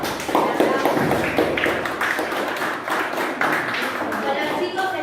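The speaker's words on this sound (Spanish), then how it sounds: "Un aplauso." Applause from students at a school welcoming a guest, a dense burst of clapping that fills the whole moment, fairly close and even, with voices mixed into it.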